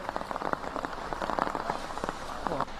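Heavy monsoon rain in coastal Mangaluru pours down steadily, a dense hiss of drops pattering on surfaces, continuous and fairly close with no voices over it.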